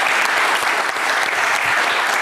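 A studio audience applauds steadily after a live football debrief show about the Classico, dense clapping filling the whole moment at even loudness with no talk over it.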